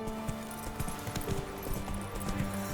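Roach, a horse in The Witcher 3: Wild Hunt, gallops with a steady clip-clop of hooves close by, a quick rhythmic beat running the whole way under a game music bed.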